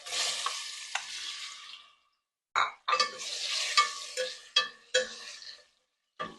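Sliced plantain (ethakka) sizzles loudly in hot ghee and is stirred in bursts. Spells of crackling frying give way to brief silences, then short scraping stir sounds return at close range.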